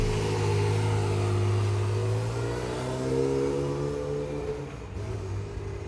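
A sold Ferrari pulls away with a close engine rev that rises in pitch through the gears, then fades as it moves off into the distance; no voices over it.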